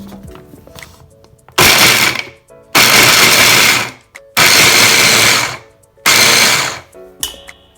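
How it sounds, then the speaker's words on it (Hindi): A mixer grinder chopping onions and green chillies whirs loudly in four bursts of a second or so each, separated by brief pauses, with a high whining motor roar. "प्याज को मैंने मिक्सी में डाल दिया है तो इसको चॉप कर लेते हैं।"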